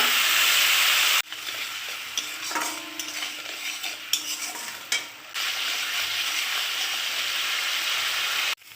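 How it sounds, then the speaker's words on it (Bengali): Spice paste with ground cumin cooking in hot oil with a little water, a steady close sizzle broken by stirring and scraping of a spoon against the pan, with a brief lull near the start and end. "তো একটু জল দিই, জল দিয়ে ভালো করে মশলাটা কষিয়ে নেব।"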